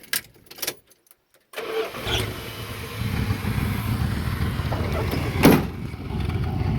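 Dodge Ramcharger fitted with a Flowmaster Super 10 muffler cranks briefly, then fires up and settles into a steady, close idle rumble with one throttle blip near the end.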